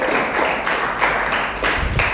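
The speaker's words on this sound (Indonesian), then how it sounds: "Oke, tepuk tangan dong." Clapping after an angklung performance, a few hands beating in rough bursts at a moderate pace, close and fairly loud.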